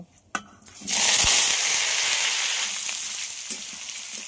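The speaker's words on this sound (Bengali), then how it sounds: "পেঁপে আর আলুটা খুব ভালো করে ভাজা ভাজা করে নেব।" Drained boiled papaya and potato hit hot oil with spice tempering: a few clattering drops, then a sudden loud, sustained sizzle that gradually settles, with a couple of stirring knocks near the end.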